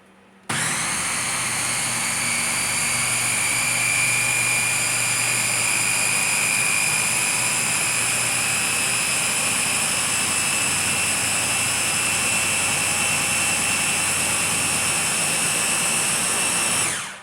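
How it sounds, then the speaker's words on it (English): A blender whirs loudly and steadily, blending red lentils with water for a bread batter, starting abruptly and running as a continuous high-pitched whine for about sixteen seconds before cutting off. "So let's get blending."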